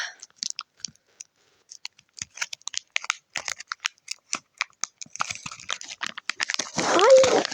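Scissors cut open a plastic face mask package in a string of sharp, close snips and clicks, followed by louder crinkling of the wrapper near the end, where a brief voice also sounds.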